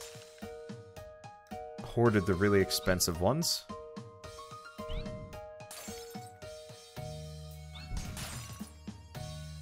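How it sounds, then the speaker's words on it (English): Glassy shattering and crunching as shields are smashed in the Land of Glass video game, a run of sharp breaking hits spread through the clip under someone talking over gameplay. "this guy's smashing my shields"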